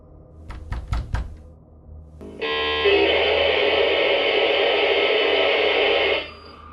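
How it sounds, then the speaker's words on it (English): In a paranormal recording, a quick series of sharp knocks is followed by a long, loud stretch of warped, wavering static that resembles a radio being tuned, then cuts off. "later some knocking and warped sounds like the tuning of a radio"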